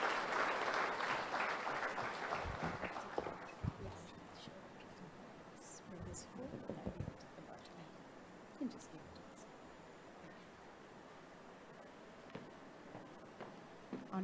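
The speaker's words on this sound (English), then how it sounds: "Can we have a big round of applause for her?" At a silver jubilee celebration, an audience applauds the SEBI chairperson in a dense burst that fades out over the first few seconds, followed by a quieter hall with footsteps, shuffling and faint murmured voices.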